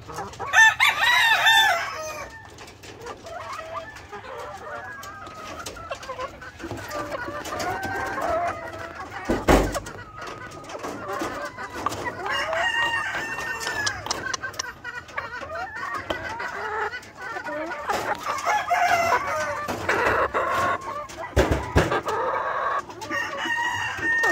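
Sweater/Asil pullets cluck repeatedly at close range, with a rooster crowing among them and occasional bumps and rustling.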